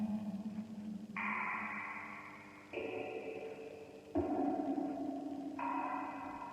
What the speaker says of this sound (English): Great reverb.